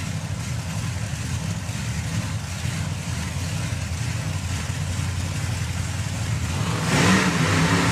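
Supercharged hot rod drag cars at the NSRA Hot Rod Drags, a steady engine roar held at a distance that swells louder near the end.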